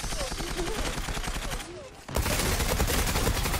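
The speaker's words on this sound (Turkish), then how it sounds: "Tar 21 bakalım nasıl bir silah arkadaşlar." A TAR-21 rifle fires in the online shooter Zula, dense rapid automatic bursts with a brief lull before a louder sustained volley, alongside background game sounds.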